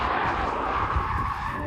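Tires of a 1991 Toyota MR2 skid and squeal loudly and continuously during snap oversteer, a steady broad screech over engine noise with no pauses.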